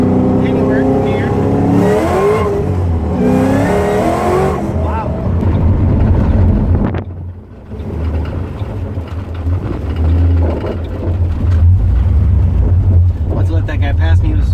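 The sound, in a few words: Ford Mustang GT500 engine accelerating hard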